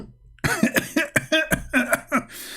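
A person coughs about eight times in a rapid, harsh burst, close and loud, each cough sharp and barking.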